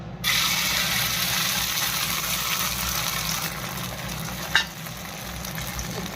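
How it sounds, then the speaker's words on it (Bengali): An egg fries on a hot tawa, giving a continuous close, loud sizzle and crackle with one brief scrape or clack partway through, and no talking. "ডিম ভাজা করছি।"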